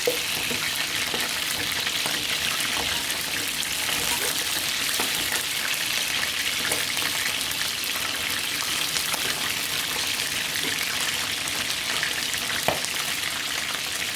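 Food deep-frying in hot oil, a steady close sizzle with scattered sharp pops and splatters over about fourteen seconds, with no talking.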